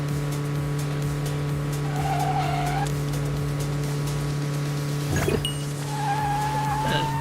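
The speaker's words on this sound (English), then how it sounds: "the tire sound is so loud, it kind of reminds me a little bit like, even with the engine sounds actually" Tires squeal repeatedly in the racing video game Neverness to Everness, sharp skids cutting over a constant droning engine hum as the car drifts through city corners.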